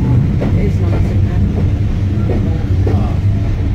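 Swanage Railway steam train heard from inside a carriage: a loud, steady low rumble of the running train throughout, with faint rhythmic clatter of wheels over rail joints.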